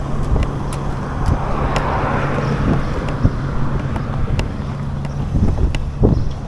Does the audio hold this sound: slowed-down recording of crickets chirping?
no